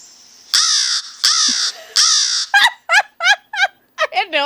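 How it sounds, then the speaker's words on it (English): A crow caws loudly and close: three long, harsh calls, then a quick run of shorter, choppy caws, with no talking over them. "Is the crow in the room with us right now?"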